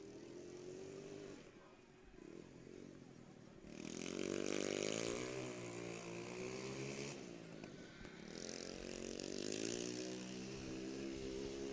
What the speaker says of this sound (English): I'm not sure what that little four-wheeler is, but it's a good running machine